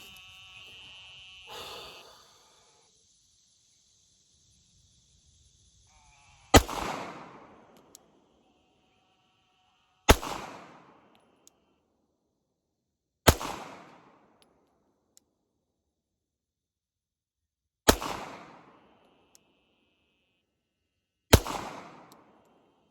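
Five sharp pistol shots from a Glock fitted with a budget threaded Swenson barrel, fired at roughly ten yards on a range: loud cracks spaced a few seconds apart, each with a short decaying echo, separated by near silence.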